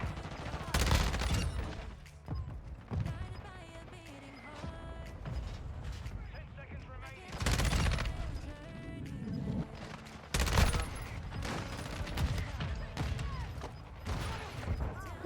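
Bursts of gunfire from a video game gun come in loud clustered volleys spaced apart, with quieter mechanical clicks and game sounds between them.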